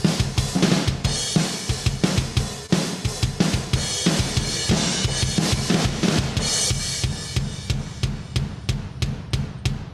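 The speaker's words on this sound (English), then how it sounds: "We sort of have this big room thing going on at the part where it's just the kick drum" Punchy kick drum hits pulse steadily in a full mix of drums and cymbals, then continue alone near the end with a booming, roomy echo.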